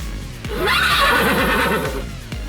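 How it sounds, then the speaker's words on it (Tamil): A single horse lets out a loud, close, wavering neigh lasting about a second and a half, framed by a few thumps, in an animated Tamil children's story. "குதிரை செல்லாமல் ராஜாவை கீழே தள்ள முயற்சி செய்தது"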